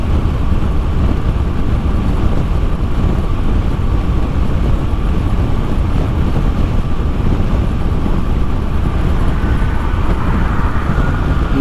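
Harley-Davidson Breakout 117 motorcycle cruising at highway speed, around 90 and 2000 RPM, a loud, steady engine drone blended with heavy wind rush against the microphone, continuous and unbroken with no talking.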